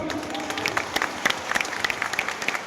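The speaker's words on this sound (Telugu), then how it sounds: "గట్టిగా చప్పట్లు కొట్టు" Audience applause at a felicitation meeting in Kamalapur, a steady wash of many hands clapping with sharper individual claps standing out, moderately loud and continuous throughout.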